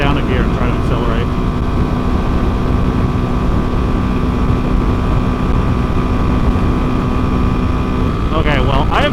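A Royal Enfield Himalayan 450 motorcycle on a freeway, heard as a loud, steady engine drone with heavy wind roar from the rider's position; the sound changes only slightly over the stretch.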